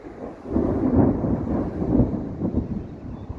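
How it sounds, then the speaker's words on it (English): A low roll of thunder rumbles across a stormy sky outdoors, swelling and fading in two broad waves over a few seconds, fairly loud with no talk. "I'm sure that shows up in the audio, that roll of thunder."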